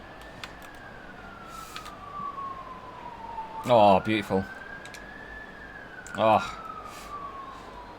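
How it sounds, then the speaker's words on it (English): A St. John Ambulance siren wails past a football stadium, a long rising and falling tone sweeping steadily in the background while a voice exclaims briefly over it. "St. John's ambulance driving past the stadium there."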